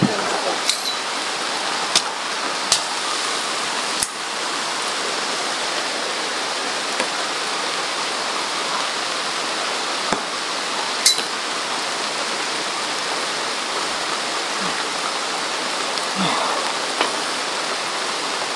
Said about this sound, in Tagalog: Ano yan ulan?